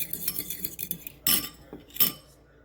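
Metal utensils clink and scrape against a pot of onion soup as hot water is stirred in, in irregular bursts, with a couple of sharper knocks standing out, close by and without speech.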